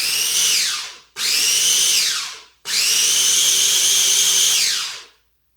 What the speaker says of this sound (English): So I don't want to finely blend it all, but I want to just do enough to start breaking up some of the seeds.